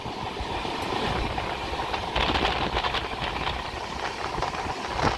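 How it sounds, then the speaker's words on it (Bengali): Kriya Yoga Express running through green hills on its way to Ranchi, a steady rumble and rolling rail clatter that swells briefly as the train takes a curve, continuous with no voices. "এত সুন্দর ট্রেনটা টার্নিং নিচ্ছে। পাহাড়ের মাঝখান থেকে যাচ্ছে।"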